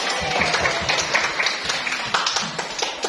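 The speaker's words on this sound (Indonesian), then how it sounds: "Ya, tepuk tangan untuk kita semua." Classroom of young pupils clapping together during a teacher's morning lesson, a dense, fairly close patter of many small hands lasting throughout, with faint voices mixed in.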